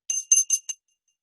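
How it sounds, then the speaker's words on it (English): Small bell rung as a one-minute warning during an online members' meeting, four quick bright tinkling strikes in a row, close and alone, then silence. "I will be ringing a bell"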